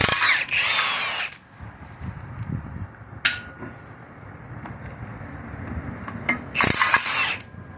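Power tool, likely an impact gun, spinning fine-thread flywheel bolts off a Ford 4.6L V8 in a Crown Victoria or Grand Marquis, in loud bursts at the start and end with a sharp hit in the middle and quieter shop clatter between.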